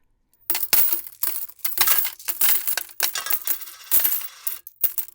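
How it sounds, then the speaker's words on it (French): Coins drop into a piggy bank in a rapid series of metallic clinks and jingles, close and loud, coming in bunches with short pauses between. "La tirelire est une boîte ayant une cavité assez grande pour faire entrer les pièces de monnaie"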